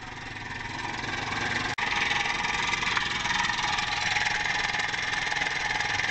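A Hadley air horn compressor runs steadily and loudly, a continuous pumping motor drone with a rapid mechanical pulse, briefly cutting out for an instant before resuming.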